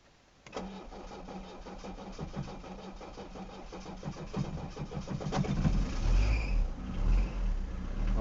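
A diesel engine cranks and catches after its glow plugs preheat, then settles into a steady, close, rumbling idle that grows slightly louder and rougher toward the end, with no talking.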